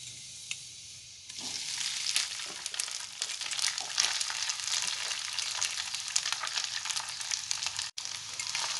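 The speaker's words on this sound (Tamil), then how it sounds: "இப்போ நாம் கட் பண்ணி வச்சுருக்கிற தோசையை இதில் சேர்க்கலாங்க." Cut dosa pieces fry with cashews and raisins in a pan, giving a steady, loud, close sizzle with crackling. The sizzle thickens after about a second and runs on without break.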